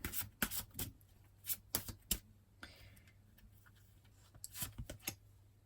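Soft riffling and crisp flicks of tarot cards being shuffled close by, in short bursts with pauses between, quiet overall with no voices.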